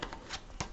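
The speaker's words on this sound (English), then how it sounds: "Let me just shuffle one more time." A deck of tarot cards is shuffled in soft, quick riffling bursts, close and quiet, with no talking.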